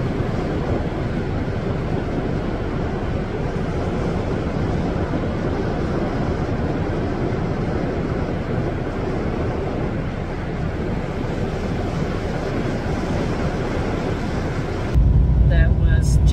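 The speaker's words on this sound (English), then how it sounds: "got out there and watch the sunset into the ocean" Steady broadband wash of ocean surf and coastal wind at a seaside sunset, loud and continuous with a sharper gusty shift near the end.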